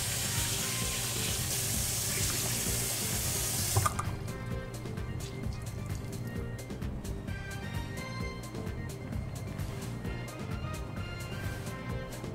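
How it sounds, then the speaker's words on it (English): A kitchen sink tap runs in a steady hiss while a rag is rinsed under it; the water cuts off after about four seconds, leaving faint clinks and handling noises in a quiet room. "Rinse out your rag."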